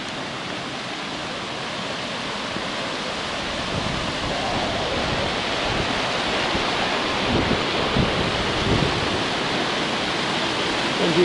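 A full mountain river rushing beside a hiking path in the Austrian high peaks, a dense steady roar of flowing water close by, continuous and loud with slight swells, no voices.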